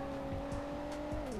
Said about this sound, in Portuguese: Tem um carro vindo aqui.